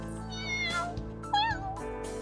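A cat meows twice in the Aether Gazer video game, two clear rising-and-falling calls over a steady low background hum, close and fairly loud.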